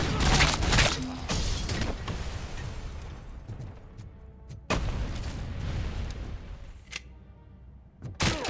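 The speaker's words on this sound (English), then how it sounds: "Oh, it's a flashbang." A flashbang grenade in RoboCop: Rogue City goes off with a sharp broadband blast, followed by a ringing, noisy tail. Further loud bursts and impacts come before and after it in a busy game mix.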